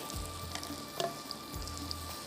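Peanuts and coconut roasting in an iron pan give off a soft, steady sizzle and crackle. A few brief pops and scrapes sound close by and there is no talking.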